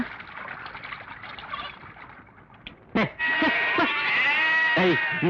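Sheep and goats bleating close by, first a muffled stretch and then a loud chorus of overlapping wavering cries from several animals, with no talk over them.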